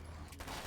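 Gunfire from Alan Wake's American Nightmare, a dense burst of shots filling the short clip, loud and continuous with broadband crackle.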